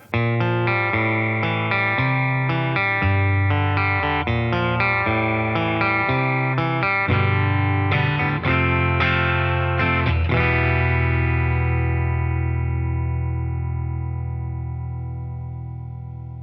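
Clean electric guitar chords from a Fender Acoustasonic Player Telecaster through a Fender Tone Master Deluxe Reverb amp, warm tone with light chorus, played steadily, then a final chord left to sustain and fade.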